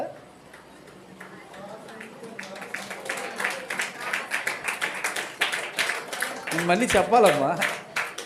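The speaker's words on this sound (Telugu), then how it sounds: "ఏంటి ఎందుకు కొడుతున్నారు చప్పట్లు" An audience at a Sunday church service breaks into rapid clapping that builds to a dense, close patter, following someone speaking briefly at the start and near the end.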